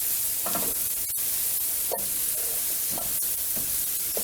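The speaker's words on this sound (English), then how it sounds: "we'll let those mushrooms cook down some more. Give this a little bit of a turn." Mushrooms with garlic paste frying in a pan, a steady close sizzle with periodic scraping stirs of a utensil against the pan surface.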